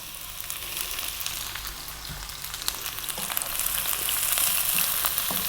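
Garlic, ginger and onion frying on high heat for Chinese cabbage, a steady loud sizzle with stirring scrapes that swells louder toward the end, no one talking.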